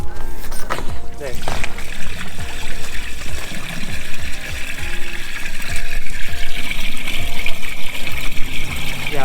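RV waste tank draining through a hose into a drain, a loud steady rush and gurgle of water flowing throughout, close by.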